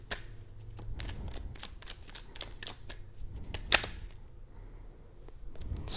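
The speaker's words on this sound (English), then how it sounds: "Let me pull one more card." Tarot cards shuffled and drawn by hand at close range, a quick run of crisp riffling snaps and slides with short pauses between bursts.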